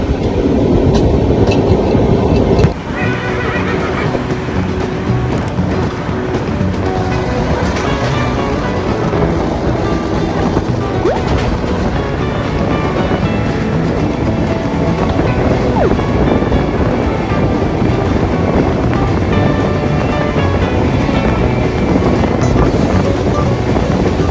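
A Mahanagri Express passenger train runs steadily on Indian rails, a loud continuous rumble and clatter of the carriages with wind buffeting the microphone, a sharp shift in tone early on, then an even roar for the rest.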